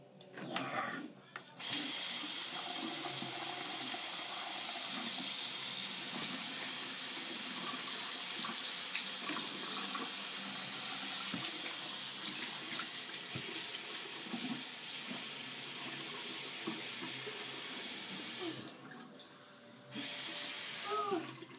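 A bathroom tap runs steadily into a sink for face washing, a continuous close hiss and splash lasting about sixteen seconds, cutting off briefly and then resuming at the end.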